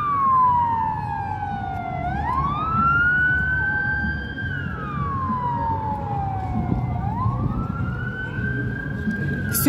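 An ambulance siren wails through a city street in Chisinau, Moldova, rising and falling in long, loud sweeps that fill the whole stretch over steady traffic rumble.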